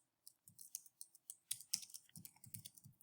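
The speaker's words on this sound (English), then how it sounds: "Okay, so right, I'm just typing in a search term here." Someone types a search term on a computer keyboard, producing quick, close, irregular key clicks in a quiet room.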